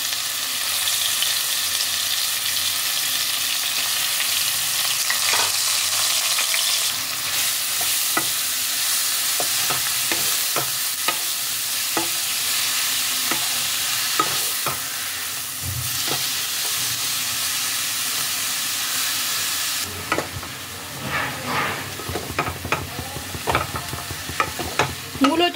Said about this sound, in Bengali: মূলোটাকে তেলের মধ্যে এবার ফ্রাই করতে হবে।